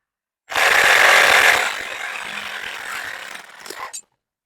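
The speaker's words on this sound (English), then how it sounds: "we're going to take our Sawzall and cut the rest of this spine" A Sawzall reciprocating saw cuts through the spine of a hot beef carcass, a harsh buzzing rasp that starts loud, eases into a steadier grinding cut, then stops abruptly.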